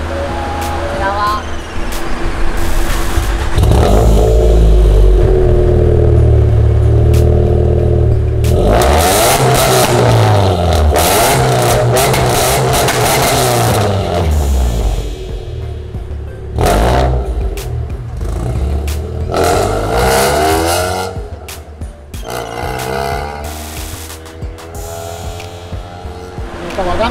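Scion xB with an aftermarket muffler fitted less than a month earlier, its engine revving loud and close in repeated rising bursts with a deep exhaust rumble, while people talk over and between the revs.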